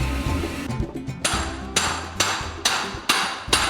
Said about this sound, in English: over here, Bret, we have the hand hammering of the hand-hammered series of timpani